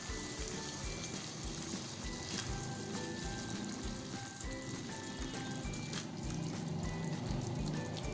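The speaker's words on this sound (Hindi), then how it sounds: "इसमें हम वही पानी ऐड करेंगे जो हमने लोबिया उबाली थी" Water, saved from boiling black-eyed beans, poured into frying keema and lobia; a continuous trickling pour over faint sizzling, close and steady with no voices.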